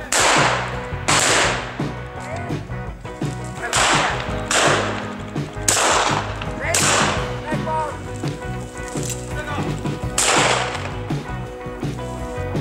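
Repeated sharp shotgun blasts at a pheasant hunt crack out about every second or two over a musical background, loud and close, at an uneven rhythm.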